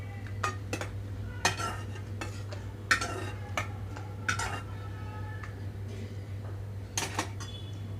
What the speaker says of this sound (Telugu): వీటన్నిటిని ఒక ప్లేట్లోకి తీసేసుకుంటున్నాను